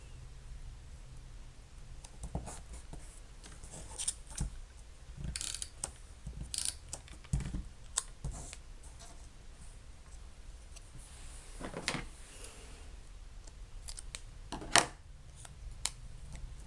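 Scissors trim small squares of paper card, producing scattered sharp snips and clicks at irregular intervals, close and fairly quiet, with no voices.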